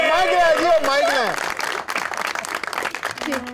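An audience claps on a Pakistani TV show after someone sings, a burst of applause following the singing and continuing under some talk.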